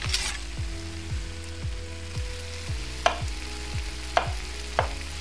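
Chicken fries in a pan with a steady, close sizzle, punctuated by a regular series of soft scraping sweeps and a few sharper clicks, with no talking.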